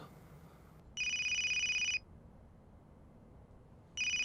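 A mobile phone ringtone going off in a film, two bright electronic ring bursts about a second each, separated by a short pause, loud and clear over a quiet background.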